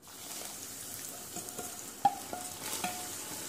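Macaroni frying in hot oil for crispy kurkure, a steady close sizzle with a few light clinks of a utensil and stirring against the pan, no voices.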